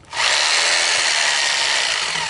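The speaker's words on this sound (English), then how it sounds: "what you're going to need for the leg supports is a hammer drill and a 1/2 inch masonry bit" A hammer drill with a 1/2 inch masonry bit bores a hole for pool slide leg supports, a loud, steady, continuous whine and grind that begins abruptly and holds for a couple of seconds.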